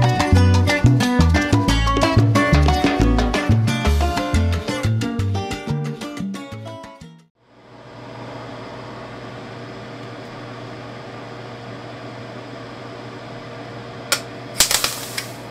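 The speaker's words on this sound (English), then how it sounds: "enjoy these nice shots of some capacitors blowing up" Capacitors powered by lead acid batteries blow up, a dense run of sharp cracks and pops in quick succession giving way to a steady hiss and hum, with a few last bursts near the end.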